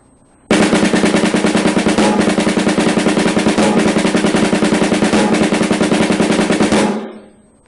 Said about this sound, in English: Here's how the 15-stroke roll sounds played very closed.